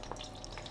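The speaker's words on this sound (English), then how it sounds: "And if it sizzles and bubbles, if it bubbles around, then it's ready." Breadcrumb dropped into hot frying oil to test its heat before cooking freshly caught flathead fish, giving a steady close crackling sizzle with bubbling throughout.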